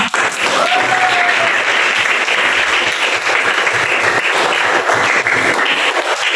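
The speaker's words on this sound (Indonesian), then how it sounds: "Aplaus untuk kita semua" A classroom of students applauds together, steady dense clapping filling the whole stretch at close range, loud and continuous without pause.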